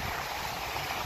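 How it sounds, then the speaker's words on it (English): Ocean waves wash onto a beach at Varadero, Cuba, as a steady broadband rush of surf with some wind, close and continuous, with no voices. "You hear the waves crashing?"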